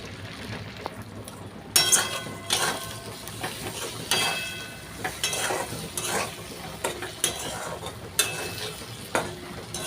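Black cumin seeds crackling in hot oil, a close, hissing sizzle broken by repeated scraping stirs and light clinks of a spoon against the pan, no voices.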